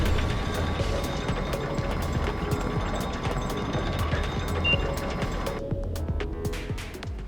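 Elevator machinery in the video game Digimon Story: Time Stranger, a steady mechanical ratcheting and grinding of gears that runs continuously at moderate loudness, then cuts to a thinner clatter near the end.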